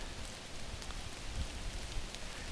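Rain falls on the Appalachian Trail in a steady, even hiss of drops, soft and somewhat distant, with a few slightly louder patters and no voices.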